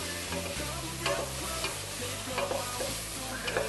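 Beef pieces sear in a hot pan for Moroccan beef soup while a utensil stirs them, giving a strong continuous sizzle with repeated scraping and clattering strokes up close.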